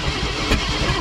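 Engine of a 1970 International Loadstar truck cranking, a dense, loud mechanical churn with rhythmic pulsing and no speech over it.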